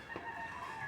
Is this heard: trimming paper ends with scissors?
no